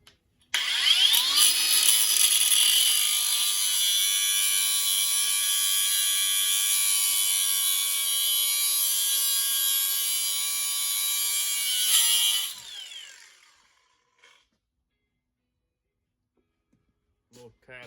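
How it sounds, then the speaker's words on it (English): Up close, a power tool grinds steadily at high pitch for about twelve seconds, cutting a tab off the intake for a Yamaha TTR-110 carburetor, then winds down and falls silent. "So getting into a little grinding here."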